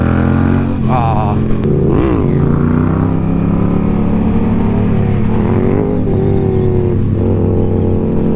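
Honda Grom motorcycle engine revving nearby on the street, a loud continuous buzzing whine with pitch swells from throttle blips, running under some outdoor chatter from riders.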